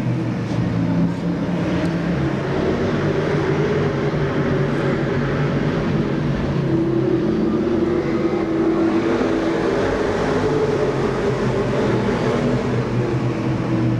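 Stock cars roar around Seekonk Speedway as the feature race gets underway, a dense, steady wall of engine noise from the pack that swells and holds loud throughout.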